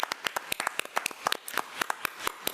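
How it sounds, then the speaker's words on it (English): A small group at a school board committee meeting claps in a sparse, quiet round of applause, individual hand claps clearly distinct and uneven, with no talking over them. "So we want to give Lenasia Sanders a round of applause."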